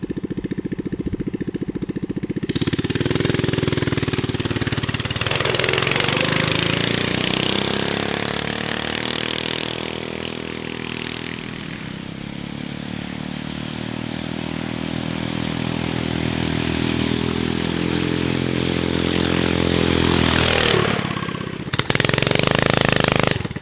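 An off-road kart's engine roars loud and close for a long stretch, its pitch rising and sagging as the clutch strains, before cutting out briefly near the end.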